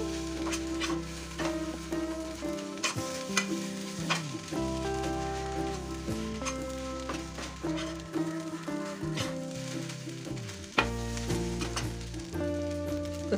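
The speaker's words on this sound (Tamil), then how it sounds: "மிளகுத்தூள் கொத்தமல்லி கருவேப்பிலை மூணையும் சேர்த்து நல்லா ஒரு கிண்டி கிண்டி விட்டா அவ்வளோதான் கொத்து புரோட்டா ரெடி ஆயிடும்" Egg kothu parotta, Madurai style, frying on a hot pan as pepper powder, coriander and curry leaves are stirred through. A steady sizzle runs throughout with scraping stirs, under a layer of tonal background sound, and nobody speaks.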